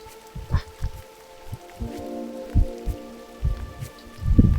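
Rain falls in the video game GRIS, a patter of scattered soft drops and thuds over quiet tonal music, with no talking.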